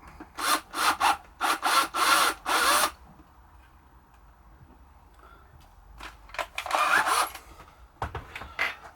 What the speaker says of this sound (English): Just to ream the hole out.